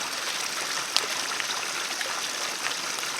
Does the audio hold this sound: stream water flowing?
yes